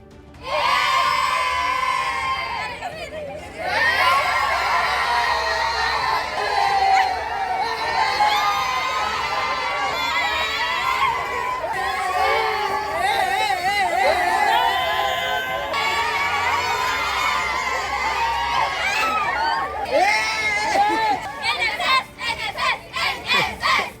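Vocational higher secondary school NSS students who farmed land beside their school cheer and shout together. The loud, continuous roar of young voices and whoops lasts throughout, with scattered claps or bursts toward the end.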